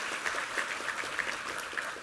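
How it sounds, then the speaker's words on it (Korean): Church congregation applauding together: a dense, even wash of many hands clapping at moderate distance, steady for two seconds with a few louder claps standing out. "우리 하나님께 감사와 영광의 박수 올려드리겠습니다"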